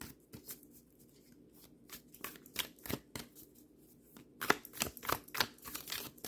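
Tarot cards being shuffled by hand at close range, a rapid run of soft riffling flutters and slaps that gets denser and louder toward the end.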